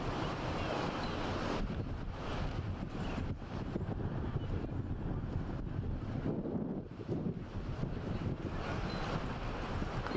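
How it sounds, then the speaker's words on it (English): Strong wind buffets the microphone outdoors on a golf course, a continuous loud roar with gusty low rumble filling the whole clip. "It's really crazy windy."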